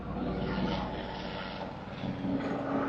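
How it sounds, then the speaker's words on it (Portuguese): A helicopter passes overhead, its steady, droning engine and rotor noise holding fairly loud and even throughout with no talk over it. "Um helicóptero aqui, gente."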